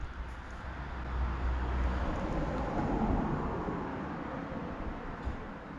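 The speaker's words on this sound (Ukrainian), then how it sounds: "машина їде" A car passes by outside a house, a soft broadband rumble that swells in the middle and fades away, fairly faint and without talk.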